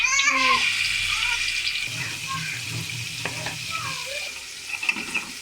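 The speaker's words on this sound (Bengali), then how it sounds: "প্যানে রেগুলার রান্নার তেল দিয়ে দিব মাছটা ভাজার জন্য।" Hilsa fish fries in regular cooking oil in a pan alongside brinjal, giving a close, continuous sizzling hiss with soft spattering and a few light stirring taps.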